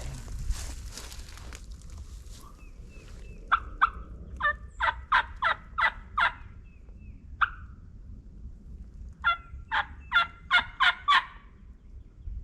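Wild turkey gobbling in the field, with two bursts of rapid gobbles: a run of about seven calls, a lone call, then another run of about six. Each call is loud and fairly close over steady background noise, with no talking.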